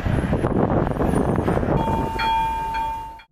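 A train rumbles past close by, then a horn sounds a sustained tone as the noise fades.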